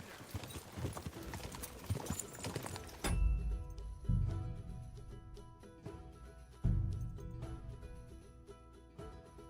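Horse hooves clip-clop in the video game Kingdom Come: Deliverance 2, a few heavy thudding steps at irregular intervals after a burst of busier game sound.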